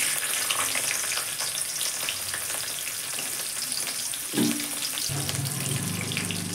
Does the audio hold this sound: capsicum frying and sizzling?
yes